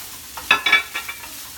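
Fish laab ingredients get tossed and mixed together in a bowl, making a few soft, close scraping and rustling strokes, two louder in the middle, then fading taps.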